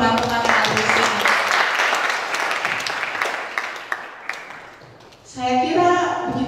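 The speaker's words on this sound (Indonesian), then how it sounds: "Tepuk tanganlah untuk teman-teman yang ada di sini." Applause from the audience at a literature seminar on literature and disability, a dense wash of clapping that slowly fades over several seconds before a voice begins talking.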